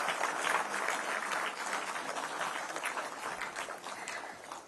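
Audience applause at a corporate award ceremony, a sustained wash of clapping from a large crowd holding fairly steady and easing slightly toward the end, with no talk over it.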